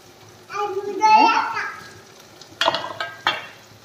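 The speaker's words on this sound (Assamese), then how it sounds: "ইয়াত লৈছোঁ পিঁয়াজ, কাজু, আদা, নহৰু দি পেলাই এয়া ভাজি আছোঁ" Onion, cashew, ginger and garlic frying in a pan for a gravy, a close sizzle with spatula stirring and a few sharp scraping clatters, while someone talks over it.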